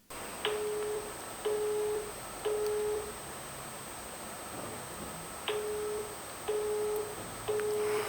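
An unanswered telephone call gives repeated ringback tones, two groups of three evenly spaced beeps separated by a pause, clear and moderately loud over a low hiss.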